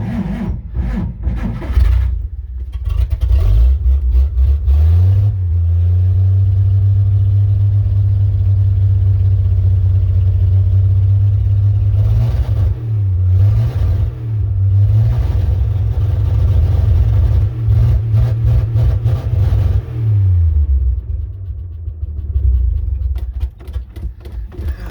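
An old car's engine cold-starts and revs steadily for about twenty seconds, a loud low drone with a few dips and blips of the throttle before settling, close by with no talk.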